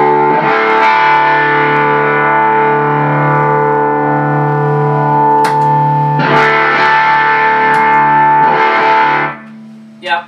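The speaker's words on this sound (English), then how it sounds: "on that channel, I'm hearing more signal, especially on the low end, which is translating into more gain and overdrive" An electric guitar plays through the overdriven bright channel of a 5E3 Tweed Deluxe amp. The sustained distorted chords are loud and close, with brief pick scrapes and chord changes before the sound cuts off near the end.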